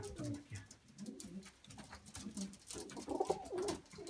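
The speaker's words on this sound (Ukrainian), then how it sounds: "От такі голуби, які цінні для мене, які подобаються." Several pigeons coo nearby in low, throaty rolling calls, overlapping softly with some rustling and faint speech underneath.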